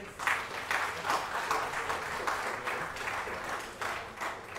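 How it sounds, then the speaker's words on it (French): A gathered audience at a medal award ceremony claps warmly, a steady, fairly soft roll of many hands heard from a distance with slight swells and no voices over it. "Je voudrais vous demander de l'applaudir très fort, s'il vous plaît."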